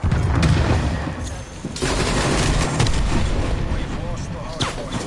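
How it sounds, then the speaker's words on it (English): A flashbang grenade bursts in a video game amid a dense, loud mix of gunfire and booms, with a player talking over the chaotic firefight. "Flashbang going out."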